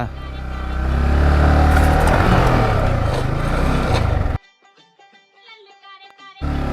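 A Suzuki Gixxer 150 motorcycle revs hard in third gear, a loud, close, sustained engine roar for about four seconds that then cuts off abruptly.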